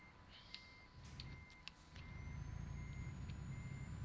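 Reversing beeps from a truck in Euro Truck Simulator 2, a steady repeating beep over a low rumbling engine that grows louder midway, with faint clicks, no talk.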